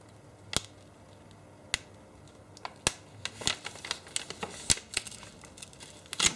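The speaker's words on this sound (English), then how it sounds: "You can hear tearing." Hot glue peels away from paper in a series of irregular crackling rips and snaps, close and fairly quiet.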